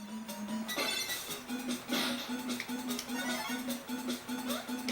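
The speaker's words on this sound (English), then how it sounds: "So let's say the games like Tiny Toon Adventures." Tiny Toon Adventures game sound played on a Famiclone console, with a quiet chiptune melody over a repeating low buzzy tone and scattered bleeping effects.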